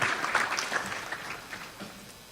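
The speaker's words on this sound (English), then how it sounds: "Sure, you can clap." An audience at a 2018 coaches hall of fame induction ceremony claps, a brief burst of applause that starts strong and fades quickly over a couple of seconds.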